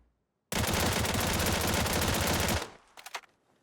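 Rapid suppressed rifle fire from a gun in PUBG, a dense sustained burst lasting about two seconds, followed by a few short trailing shots at the end.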